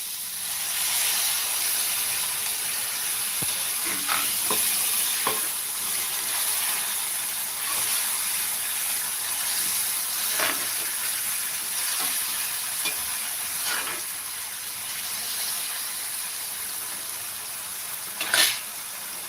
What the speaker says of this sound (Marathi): तर आता यामध्ये थोडंसं आपण पाणी टाकणार आहोत